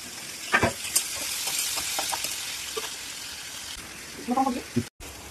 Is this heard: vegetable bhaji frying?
yes